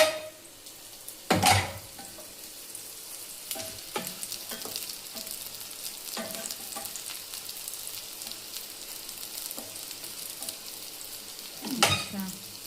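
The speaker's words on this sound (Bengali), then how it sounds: "মুচমুচে হবে, দেখে তো ধীরে ধীরে করছি। ঠিক আছে, ভাজাটা হয়ে যাক।" Food frying in a pan for a dinner meal, a faint continuous sizzle broken by a few sharp clatters and stirring knocks at intervals.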